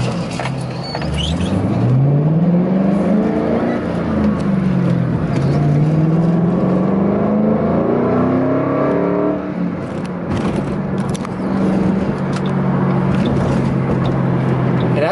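A 2005 Ford Mustang GT pony car with a 5-speed manual revs up and climbs through gears, the loud, steady engine drone rising in pitch, dipping at a shift, then rising again, heard from inside.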